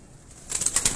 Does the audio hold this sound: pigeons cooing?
yes